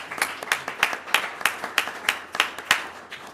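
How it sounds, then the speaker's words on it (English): A small audience at a candidates forum in Swampscott claps for the candidates, with sparse, distinct hand claps in a loose, fairly steady rhythm, close and clear. "Yes, let's clap for them."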